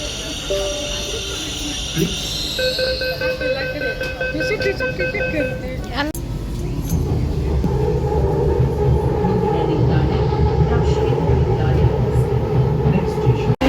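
A metro train hums and rumbles, with tonal chimes and an announcement-like voice early on, then a steady, louder rolling roar as it moves.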